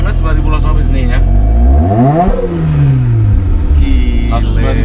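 A Mazda RX-7 with a rotary engine revs up hard toward 9,000 RPM, its pitch climbing steeply to a peak and then falling away as the revs drop. The engine is loud and close.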